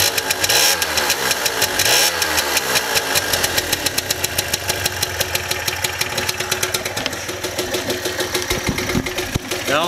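A 2-stroke 49cc Vento Triton scooter idles nearby with a rapid, uneven putter that has a slight knock in it, steady and fairly loud.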